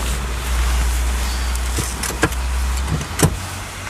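Power seat in a 2019 Hyundai Kona whirring as it is adjusted, a steady low electric motor hum inside the cabin with a few clicks and thumps near the end.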